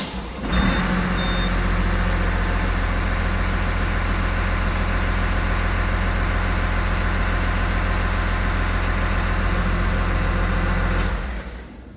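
Cat IT28G wheel loader engine runs at a steady idle throughout, a loud continuous diesel drone heard up close with a high whine on top, cutting off near the end.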